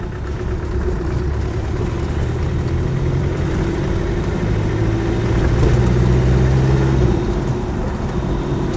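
A Land Rover 110 station wagon with a 300TDi diesel engine drives along a road, its steady loud engine drone and road rumble heard from inside the cabin, with no talk.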